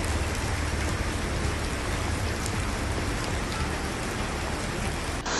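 Heavy monsoon rain pours down in Mandya, Karnataka, amid flooded highways, a dense, loud and unbroken roar of water hitting surfaces that holds steady throughout.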